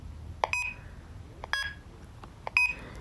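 A BrailleNote Empower braille notetaker sounds its alarm on its own: three short electronic beep bursts, each a bright chirp, spaced about a second apart against a quiet background.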